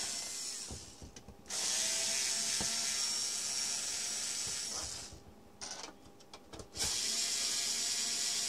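A power drill or electric screwdriver runs in steady bursts while removing screws from a Bluetooth speaker housing, the whine stopping briefly between screws with faint clicks in the gaps.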